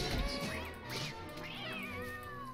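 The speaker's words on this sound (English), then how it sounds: "Catcoon. It's a combination of a cat and a raccoon." A catcoon, a cat-raccoon creature in Don't Starve Together, gives a run of rising and falling meows and yowls, faint against a quiet game background.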